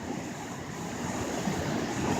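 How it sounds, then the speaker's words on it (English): Turbulent water churns just below a dam, a steady, dense rushing roar that holds evenly and swells slightly toward the end, with no voices. "and the water's turbulent."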